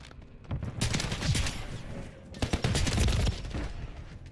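Modern Warfare 3 gunfire rattles in two loud bursts of rapid automatic shots, the second burst longer, with short gaps between.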